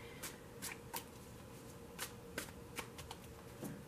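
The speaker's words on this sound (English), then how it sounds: "I have pre-shuffled this deck, so I'm only going to shuffle it for a moment." A tarot card deck being shuffled by hand, giving quick, soft riffling bursts and light card snaps in an irregular rhythm, close and quiet, with no voices.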